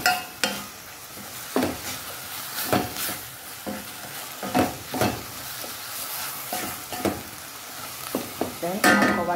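Diced carrot frying in a Nigerian meat pie filling sauce, with a steady sizzle broken by repeated stirring scrapes and occasional clinks of utensil against the pot, close and moderately loud.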